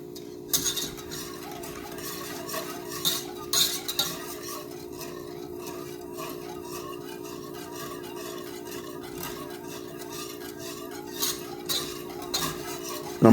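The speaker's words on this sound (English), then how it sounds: "I'm gonna stir this constantly because this helps the thickening process and it keeps it from sticking to the pan" Sweetened condensed milk being stirred steadily in a pan over medium heat, a soft continuous scraping of the spoon with occasional light clinks against the metal, close and alone with no talk.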